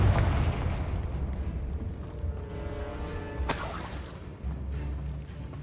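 Confringo spell explosion in the Hogwarts Legacy video game, a sudden bright crackling burst with a shattering edge over a dense rumbling game soundscape, loud and close.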